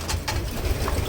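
A racing pigeon coos in its loft with soft, low, throaty calls that repeat in quick pulses over faint background rustle.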